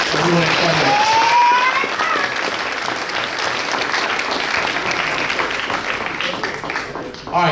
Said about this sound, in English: Another round of applause for everyone at Federer.